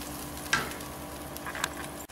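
A pot of curry leaf and coriander kulambu simmering, with a steady soft bubbling sizzle, a couple of louder pops, and a faint knock near the end, heard close with no talk.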